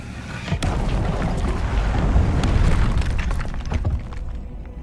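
A Confringo blasting spell detonates during Hogwarts Legacy play on PlayStation 4 Pro: a dense, rumbling boom swells with sharp cracking bursts inside it, then tails off into a dull roar. No voices.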